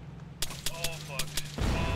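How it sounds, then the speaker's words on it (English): Heavy tank fire in the Arma 3 video game crashes out as a string of sharp, loud booming shots in quick succession, followed by a rumbling roar. "Whoa, the tank shooting."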